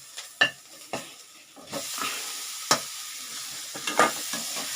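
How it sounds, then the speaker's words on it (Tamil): Flattened rice (aval) being stirred in a frying pan for aval upma, several distinct scraping stir strokes over a faint, quiet sizzle close by. "இப்போ நம்ம இந்த அவலை போட்டு கலரிடலாங்க."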